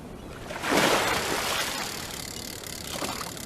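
A fish or lure hits the water with a bright splash in Real VR Fishing, a loud broad burst followed by fizzing, trailing water noise and a smaller second splash.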